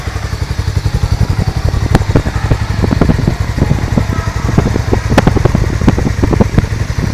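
A 2024 Hero Mavrick 440 motorcycle with a 440cc single-cylinder engine and single exhaust idles up close, its uneven, loping thumps steady and loud with a faint mechanical clatter.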